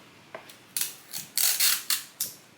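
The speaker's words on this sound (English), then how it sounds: "we basically just have to take our scissors here, trim off like, I don't know, an inch" Scissors snipping through a paper label at a tabletop, a few quiet clicks followed by several sharp, close cutting strokes in quick irregular succession, with no talk.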